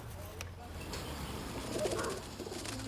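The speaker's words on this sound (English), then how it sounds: "the dove has been snared for several hours, so Joanna wants to get it out before it gets more distressed" A dove trapped under a wire snare gives a soft, low coo in the middle of a short stretch of outdoor background noise.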